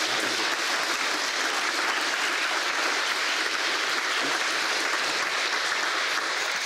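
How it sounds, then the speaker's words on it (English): An audience at the Cambridge Union claps in a long, dense, steady round of applause at the close of a talk, loud and continuous with no voices over it. "Could we please have one last round of applause for Sir John Curtice?"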